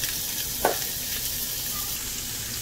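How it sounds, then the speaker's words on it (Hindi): Steady hiss of mixed vegetables frying in a hot pan, a constant close sizzle with one brief clink partway through. "ये पैन में मैंने सारी वेजिटेबल्स डाल दी हैं"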